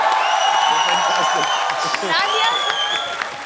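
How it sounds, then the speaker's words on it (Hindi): A studio audience at a comedy show applauds and cheers for a performer named Sugandha, loud steady clapping with whoops and crowd noise, while a voice talks over it. "सुगंधा के लिए जोरदार तालियां"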